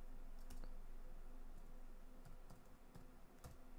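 Quick bursts of typing on a computer keyboard, with light clicking keystrokes in short uneven runs, close and soft over a steady background hum.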